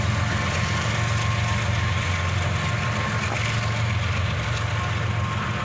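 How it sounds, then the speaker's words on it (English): End of a CSX freight train passing with an ES-44ACH locomotive at the rear, a continuous droning engine hum and low rumble over steady rail noise, moderately loud and even throughout. "here comes the end of the train with the second locomotive"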